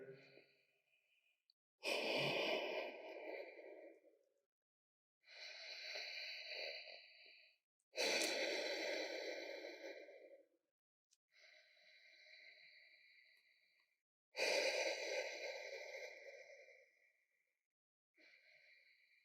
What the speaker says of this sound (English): 4 big inhales and exhales right here.